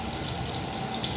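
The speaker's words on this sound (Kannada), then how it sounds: "ಎಲ್ಲ ಚೆನ್ನಾಗಿ ಫ್ರೈ ಆಗ್ತಾ ಇದೆ" Mutton, young goat, frying in a pan in a rustic country-style cook, a dense, steady sizzle with fine crackling throughout, close and continuous with no voices.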